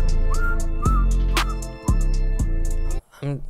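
Pitched, gliding auto-tuned whistle tones ride over a steady music track, ending with a brief warbling vocal fragment.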